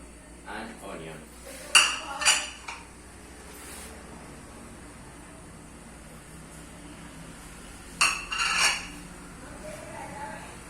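Utensils mixing tomato and onion, heard as two short bursts of metallic clinking and scraping against a pan, separated by a long quiet stretch with faint background hiss.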